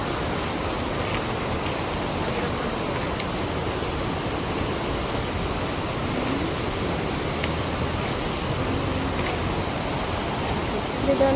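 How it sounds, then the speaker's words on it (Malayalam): Waterfall in cold, rainy weather, a steady, even rush of falling water that fills the scene without a break. "വെള്ളത്തിൻ്റെ ഒച്ചയാണ് കേട്ടോ കേൾക്കുന്നത്."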